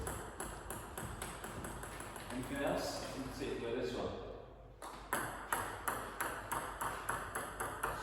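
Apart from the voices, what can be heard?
table tennis ball struck during serve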